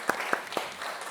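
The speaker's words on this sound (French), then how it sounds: "je pense qu'on peut applaudir Edith pour cette première introduction au jeu." Applause from an audience at a live neuroscience talk and game event in Grenoble, with a brief, steady patter of clapping and a few sharper claps.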